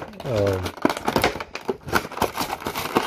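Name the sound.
opening taped packaging of Halo Master Chief figure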